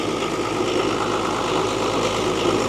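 An abandoned Dodge engine running after sitting for years, its turbo spinning, a steady close rumbling idle with a dense mechanical clatter and hum, unbroken and without talk.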